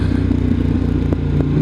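A 2023 Harley-Davidson Pan America rumbles steadily at low speed through dark corners on the road from Georgia to Robbinsville, North Carolina, its loud engine drone running continuously with small clattering ticks.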